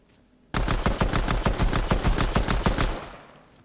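An assault rifle fires in Fortnite as one sustained burst of rapid, evenly spaced shots, loud and close, lasting about two and a half seconds before a short ringing tail, with no voices.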